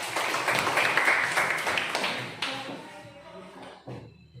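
A classroom of students bursts into dense, rapid hand clapping that rises quickly and then fades over a few seconds, ending with a thump and a bit of background noise.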